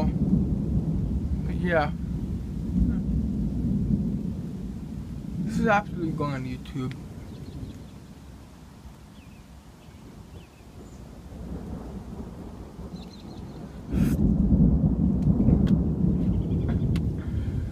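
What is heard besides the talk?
thunder during a severe thunderstorm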